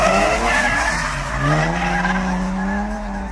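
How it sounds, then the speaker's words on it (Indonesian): A toy race car sound effect plays loudly up close, with a long screeching tire skid and a rising, wavering engine whine over a rumbling low end. "Ini adalah mobil balap."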